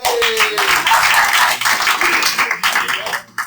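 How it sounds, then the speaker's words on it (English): An audience gives a round of applause, a short burst of clapping that is loud and near, uneven in density and tapering off toward the end, with no talk over it. "Give me a round of applause."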